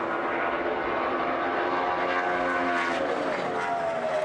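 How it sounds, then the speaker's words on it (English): A NASCAR race car at the 2011 Hollywood Casino 400 droning steadily at a distance, its engine note shifting and dropping as it enters a turn. "it sounds like the clutch is going in and the engine's shutting off on the car"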